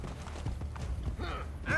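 Rapid clip-clop of horse hooves close by in Assassin's Creed Brotherhood, mixed with thumps and a rising whinny-like tone near the end.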